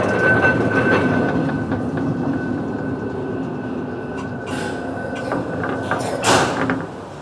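A Swiss funicular railway runs with a steady rolling rumble and a faint high whine, then a brief door or mechanical clatter near the end, with no talking.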